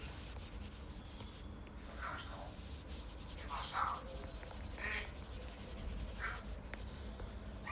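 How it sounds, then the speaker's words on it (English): Pet birds call indoors after waking, a few scattered harsh, croaky squawks at moderate distance over steady rubbing and scratching sounds close by. "My birds woke up."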